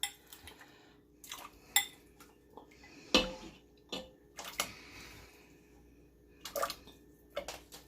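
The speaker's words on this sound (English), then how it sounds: "I'm going to throw the carrots in here." Carrots drop into a bowl with scattered hard clatters and knocks, a few sharp hits among quieter kitchen clinks and faint water sounds, close and without talk.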